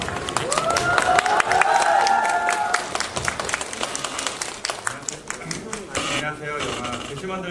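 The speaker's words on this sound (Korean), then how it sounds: "큰 박수로." Crowd applause at a film stage greeting event, sustained clapping from a sizable audience with scattered cheers and voices calling out above it, fading slightly toward the end.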